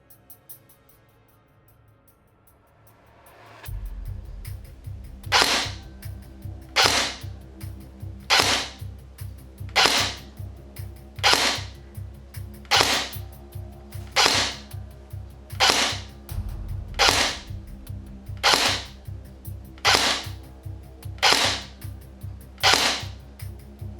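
A CYMA CM049 SD6 airsoft MP5 fires single shots during an accuracy test, about fifteen sharp, evenly spaced cracks over a low motor hum, close and loud.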